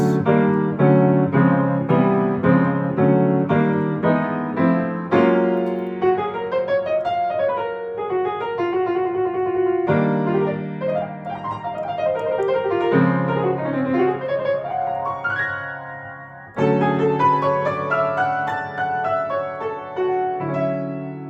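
Major seventh chords ring out one after another on a keyboard, with broken-chord runs rising and falling between them, played alone at a moderate pace.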